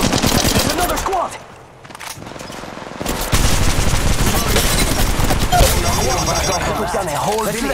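Gunfire in Apex Legends Mobile: rapid automatic bursts and shots close up, with a brief quieter lull before the firing resumes hard and continuous along with other game effects.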